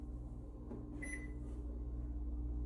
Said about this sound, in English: My microwave was not on the timer. I had to press cancel to get it off from the cooking.